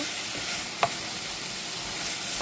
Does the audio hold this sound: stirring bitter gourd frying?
yes